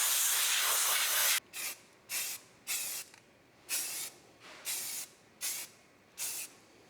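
A spray can lays paint onto a rusty car body as part of rust repair with paint blending: one long steady hiss, then seven short, evenly spaced bursts, close and clear.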